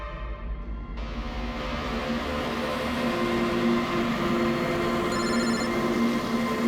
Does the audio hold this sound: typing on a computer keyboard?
no